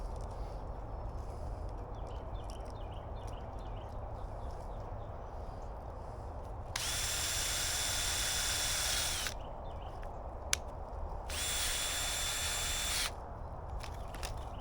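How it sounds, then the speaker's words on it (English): A power drill drives screws into wood while building bird-protection netting around a fruit tree, two whirring bursts of a few seconds each over quiet outdoor background. "And I'm going to drill it on,"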